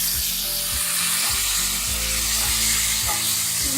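Stuffed pointed gourds (parval) sizzle and fry steadily in a pan, a constant crackling hiss with occasional soft low bumps, close and without talking.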